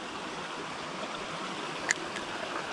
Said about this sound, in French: C'est tout tout petit le ruisseau après.